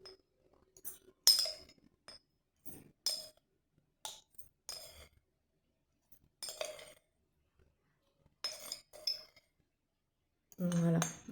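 Coarse salt is scooped by the spoonful for a witch's black salt recipe, bringing repeated short clinks and scrapes of a metal spoon against a container, spaced with quiet gaps, with a brief voice near the end.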